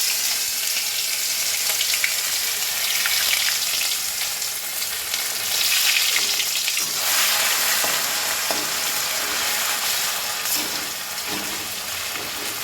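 Crushed ginger and garlic fry in leftover chicken oil in a pan, giving a loud, continuous sizzle with crackling spurts throughout.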